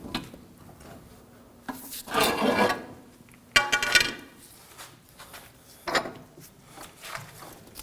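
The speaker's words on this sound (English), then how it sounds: "We can use our pry bar to release the ball joint." A pry bar working a ball joint loose on the front suspension of a Subaru Impreza, with scraping, levering metal clunks and a sharp knock as it releases, close up.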